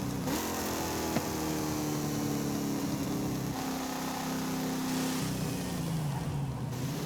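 A supercharged muscle car engine in Forza Horizon 5 hums and revs continuously, its pitch rising and falling through several shifts at a moderate, steady level.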